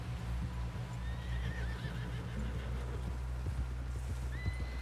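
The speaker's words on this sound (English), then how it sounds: "Someone help John down off this horse." Horse hooves clip-clop in a steady rhythm over a low hum, with a faint whinny and soft tones in the background, in the video game Red Dead Redemption 2.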